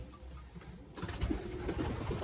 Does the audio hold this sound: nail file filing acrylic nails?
no